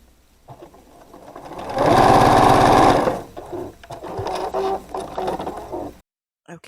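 A sewing machine that is acting a little oddly stitches half-square triangles for a rainbow star quilt block: one loud, fast burst of about a second, then softer intermittent fabric handling and clicks.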